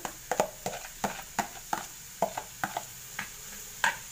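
Raw onions are tipped into a pan of spices and liver and stirred, giving a series of sharp, irregular scraping clicks against the pan over a soft, faint background hiss.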